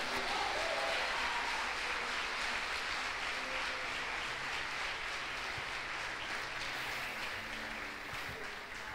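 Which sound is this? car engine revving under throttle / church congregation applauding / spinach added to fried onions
church congregation applauding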